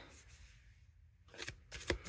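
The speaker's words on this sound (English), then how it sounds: "And then overhand shuffle." Overhand shuffling of a stiff, matte-finish deck of playing cards, heard as two close bursts of riffling flicks after a quiet start, with no talk.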